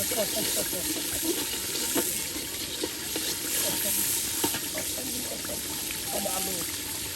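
Onion, turmeric, chili and salt masala sautéing for a beef khichuri cooked outdoors by a riverbank, a steady close sizzle with soft stirring scrapes, while faint voices murmur in the background.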